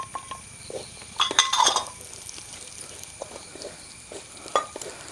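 Chopped almonds and cashews tumble into a pan for frying in rava laddu preparation, giving light clinks and scraping stirs of a spoon against metal, a few brighter clattering bursts among quieter background rustle.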